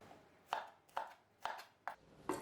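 A knife chops ginger and garlic on a cutting board in a home kitchen, five crisp, evenly spaced strikes, close and clear with quiet gaps between them.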